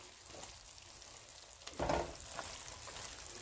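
Ginger, garlic, green chilli and curry leaves sizzle steadily in a masala paste for lemon pickle, with a brief louder burst of frying as the mixture is stirred midway.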